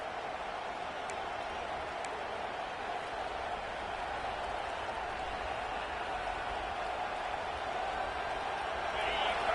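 Steady crowd roar fills a college football stadium during a Clemson vs UGA game before a critical goal-line down, a continuous near wash of noise with faint talk over it.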